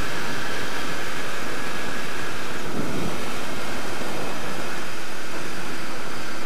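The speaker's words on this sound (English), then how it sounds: "Wind's not that bad." Steady, full-band wind roar rushes past while riding a Royal Enfield Interceptor motorcycle in the UK, a constant loud buffeting with no breaks and no speech.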